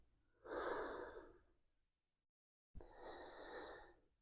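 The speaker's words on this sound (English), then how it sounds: "Just breathing in through the nose." Two quiet, drawn-out breaths through the nose, each lasting about a second, separated by a brief silence.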